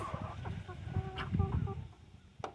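Buff silkie chickens cluck in a barn, a close cluster of soft, repeated clucks and short calls with no talk over them.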